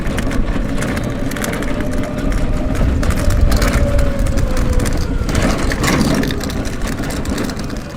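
Elwinn Hulk electric tricycle driving and picking up speed in sport mode, giving a steady, rough rumble of tires and road noise with a faint rising motor whine, loud and close throughout.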